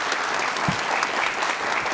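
Steady applause from a crowd fills the whole moment, even and continuous with no voices on top.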